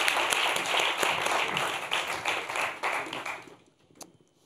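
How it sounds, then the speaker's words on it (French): An audience applauds as a speaker arrives at a panel discussion, producing a full, steady wash of clapping that holds for over three seconds before cutting off into near quiet. "On l'applaudit pendant qu'il arrive."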